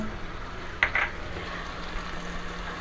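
Tomatoes and ginger fry faintly for beef karahi, giving a low, steady sizzle with a couple of brief clinks near the start.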